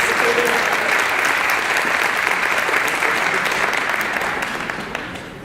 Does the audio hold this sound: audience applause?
yes